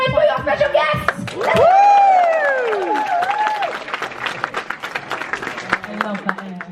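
Live podcast show audience applauding and cheering for special guests, a swelling burst of clapping and whoops from a sizeable crowd, with a voice shouting over it before the noise settles into scattered claps.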